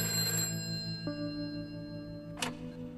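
A telephone rings inside a prison in the co-op game A Way Out, its electronic tone sounding in bursts at moderate level over a steady music and ambience bed, with no talk.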